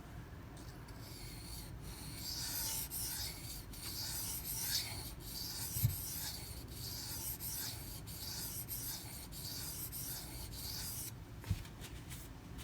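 Soft continuous scraping of an Emerson A100 knife blade being sharpened during a regrind, a faint, even rasping stroke pattern up close with a couple of small clicks and no voices.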